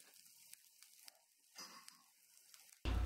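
Fenugreek leaves and tomato mixture frying in a covered pan over medium flame, a faint, soft sizzle with scattered light pops and crackles, ending in a sudden loud low thump.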